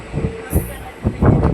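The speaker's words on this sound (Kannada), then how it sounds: "ನಮ್ಮ ಟ್ರೈನ್ ಎಷ್ಟು ಸ್ಲೋ ಹೋಗ್ತಾಯಿದೆ ಅಂತ." A passenger train pulls slowly out of Bidadi station, a low rolling rumble heard from on board beneath a person talking close by.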